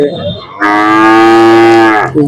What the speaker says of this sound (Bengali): এটা হলো একটা ফ্রিজিয়ান করস গরু